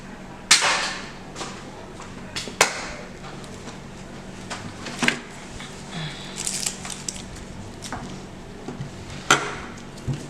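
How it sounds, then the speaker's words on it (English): A knife chops through an onion on a wooden cutting board, sharp, separate knocks spaced a second or two apart, close and clear, with light handling rustle in between. "So when I cut an onion, I just cut off both ends."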